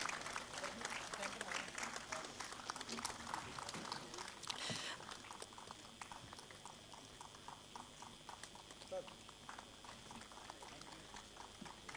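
A hall audience at an inaugural session claps in a quiet, crowded patter of many hands that runs steadily throughout, fairly distant and faint, thinning a little after the first few seconds.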